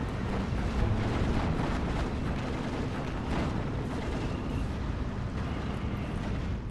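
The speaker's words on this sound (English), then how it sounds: "Not very happy with all the super accurate artillery fire." Artillery and rocket fire in the war video game Steel Division 2 forms a dense, continuous rumble of distant booms and blasts, loud and unbroken throughout.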